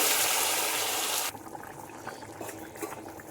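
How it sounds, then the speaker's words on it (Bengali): Boiled potato, brinjal and tomato tumble into hot tempering oil for a vegetable curry, giving a loud steady sizzle for just over a second, then dropping to quieter bubbling with small clinks and stirring. "আগে থেকে সেদ্ধ করে রাখা আলু, বেগুন এবং টমেটোগুলো ফোড়নের মধ্যে দিয়ে দিচ্ছি"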